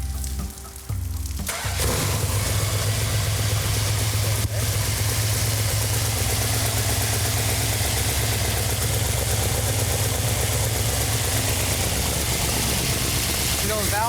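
A 1971 Plymouth Cuda 340 convertible engine cranks and fires, then settles into a loud, steady, rumbling idle close by, with people talking faintly underneath.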